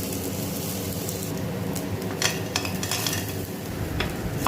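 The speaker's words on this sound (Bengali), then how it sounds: "ঘিয়ের মধ্যে দিয়ে দিলাম শুকনো লঙ্কা, পেঁয়াজ," Dried red chillies and onion frying in ghee in a frying pan make a continuous close sizzle, with scraping stirs and light clinks of utensil on pan.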